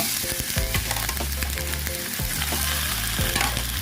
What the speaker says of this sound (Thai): เราจะคั่วเต้าหู้แล้วก็ไข่ พร้อมกันเลยนะคะทุกคน